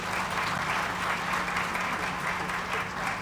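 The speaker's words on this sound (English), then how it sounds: "round of applause." Steady, dense applause from an audience welcoming award laureates at a business excellence honours ceremony, loud and continuous throughout with no talk over it.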